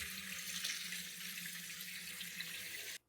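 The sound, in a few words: rinsing dried beans under running tap water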